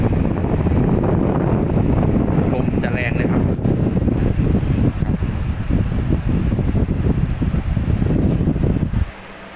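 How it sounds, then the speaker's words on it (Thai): A JPX 6000 BTU portable air conditioner blowing air on its high setting, giving a strong steady rushing whoosh close to the microphone that cuts out abruptly near the end. "พอเราปรับความเย็นแรง ลมแรง"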